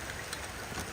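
Brief stretch of rain pouring over Kampung Tonglo during a Rambu Solo ceremony, a constant hiss with faint pattering drops, no voices.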